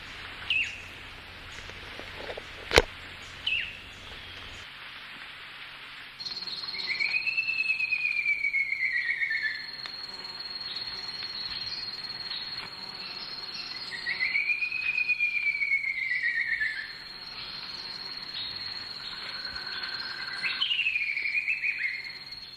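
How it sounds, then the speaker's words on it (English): Descending whistles from an ivory-billed woodcreeper in the Belize jungle ring out as clear sliding notes repeated several times, over a steady high insect drone and a few faint clicks early on. "The laughing, melodious, descending whistle of the ivory-billed woodcreeper is a readily identifiable jungle sound."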